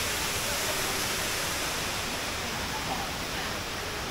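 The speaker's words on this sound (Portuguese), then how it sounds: "Tem outra parte ali e tem a cachoeira, maravilhosa." A waterfall in Bali pours beside a large natural pool, giving a constant, even rushing roar of falling water that fills the whole scene without pause.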